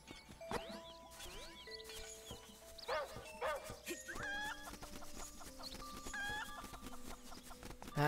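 Chickens cluck and squawk in Legend of Zelda: Link's Awakening, a busy run of short, bright game-style calls over a soft musical backdrop, with a quick bark-like yelp near the start.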